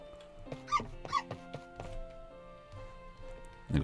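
A dog in the video game My Time at Portia gives a few short, clipped barks and whimpers in quick succession, fairly close, over a quiet ambient background.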